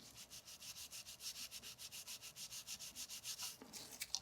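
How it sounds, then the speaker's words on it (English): A small brush scrubs back and forth on the piston walls of a Shimano Deore M615 brake caliper in quick, even strokes, close and quiet, about four per second, with a few sharper scuffs at the finish. "we're going to take a brush and we are going to clean those walls on the pistons"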